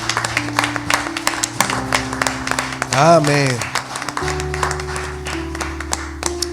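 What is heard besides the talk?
congregation applause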